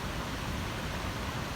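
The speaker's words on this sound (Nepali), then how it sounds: "रोडमा यस्तो भल कुद्दैछ" Floodwater running along a road after heavy rain, a dense, constant broadband rush of flowing water filling the short stretch at steady level.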